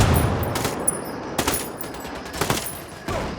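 Gunfire in the video game Ghost Recon Wildlands: several short bursts of shots at irregular intervals over a low background rumble.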